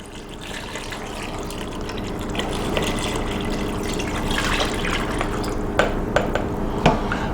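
Broth streams into an Instant Pot of red beans for Jamaican jerk red beans, a steady near pour with a few clinks against the pot toward the end.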